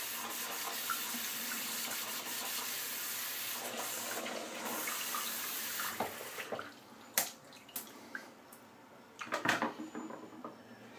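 Steady running tap water splashing into a sink while a shaving brush is wetted, a constant hiss that thins out toward the end with a few knocks and splashes.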